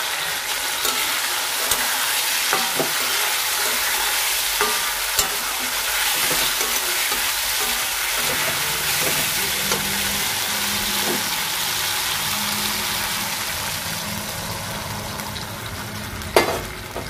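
Boiled potatoes land in a spice masala frying in oil, giving a loud, constant sizzle with occasional clacks of a spoon stirring, and no voices.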